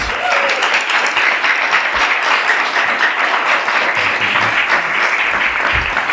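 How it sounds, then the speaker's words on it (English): Sustained round of applause from an event audience, loud and steady clapping filling the whole stretch with no break, heard alone. "Let's give them a round of applause."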